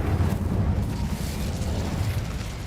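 Spell explosions from Bombarda and Incendio in Hogwarts Legacy, a sustained loud rumbling blast with crackling burst texture running through the whole stretch.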